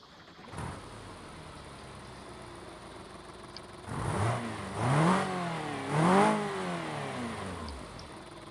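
A BMW E36 engine idles steadily and fairly quietly, then is revved briefly three times, rising and falling each time before settling back to idle.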